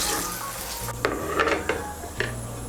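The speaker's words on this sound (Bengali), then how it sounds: "এখন বেগুনগুলোকে তুলে নিচ্ছি।" Fried eggplant pieces being lifted out of hot oil in a pan, metal utensil clinks and scrapes against the pan over a steady background sizzle, close by.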